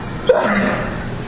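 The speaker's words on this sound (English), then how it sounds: "Was that a sneeze? That was a sneeze, yes." A single sharp sneeze bursts out close by, followed by a faint murmur of voices in the background.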